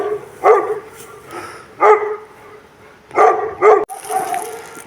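Several deep dog barks at a moderate distance, coming in separate bursts with quiet gaps, the last two in quick succession.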